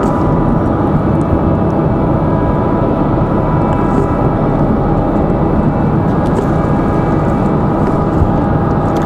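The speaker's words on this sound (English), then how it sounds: "That one here, going to touch down in a moment." Southwest Airlines Boeing 737-800 touching down at Raleigh-Durham International, a steady, loud broadband roar of engine and airflow holding constant throughout with no voices.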